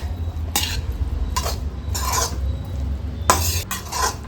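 Spoon stirring masala sweet corn chaat in a bowl, with several bursts of scraping and clinking against the dish, close and fairly loud, with no talking.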